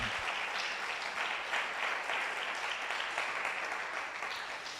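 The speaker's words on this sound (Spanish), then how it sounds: "Denle ese aplauso fuerte al Señor." A church congregation applauds steadily and loudly, a dense wash of clapping that fills the whole stretch with no speech over it.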